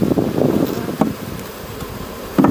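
Honeybees from a once-aggressive swarm buzz over hive frames during an inspection, a dense close hum that swells and dips, with a few soft knocks from handling the frames.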